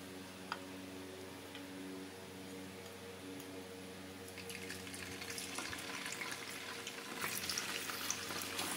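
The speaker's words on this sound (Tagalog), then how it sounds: "Ngayon po, ipiprito muna natin ang tokwa." Gentle sizzle of tofu frying in a pan, quiet at first and growing louder, with faint ticks and pops and a low hum underneath.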